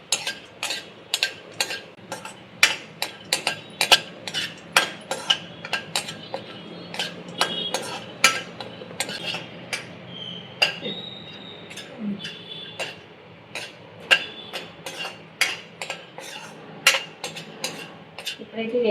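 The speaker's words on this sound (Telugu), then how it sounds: "ఇది ఎండు కొబ్బరి కొంచెం కట్ చేసుకొని వేసుకుంటున్నాం. ఫస్ట్ వేయించుకోవాలి." Chopped dry coconut roasting in a pan, heard as a rapid run of sharp metallic ticks and clinks from a spoon stirring against the pan over a faint low background.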